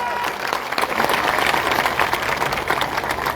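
Enthusiastic crowd applause at an outdoor political rally in Buxar, Bihar, welcoming a speaker to the stage; dense, steady clapping fills the whole stretch with a loud, even roar and no pauses.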